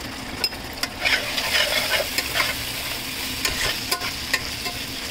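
Spices cooked down with hot sauce and soy sauce sizzle in a pan while a spoon scrapes and stirs in irregular taps, a close continuous frying hiss with sharp clicks, no speech.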